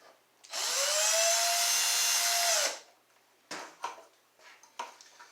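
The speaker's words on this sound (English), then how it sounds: "Now it's just a matter of taking the other screws and driving them in." A power driver whirs for about two seconds as it drives a screw into an RC plane's motor mount, close and loud, followed by a few light clicks and handling knocks.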